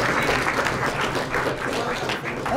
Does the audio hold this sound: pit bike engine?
no